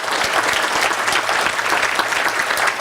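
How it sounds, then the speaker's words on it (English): Loud, sustained audience applause fills the room at a national SALDEF gathering, dense clapping continuing steadily without a break and no talking over it. "thank you, it deserves applause"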